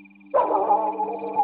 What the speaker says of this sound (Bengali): বহু দূরে একটা কুকুরের অশ্রান্ত চিৎকার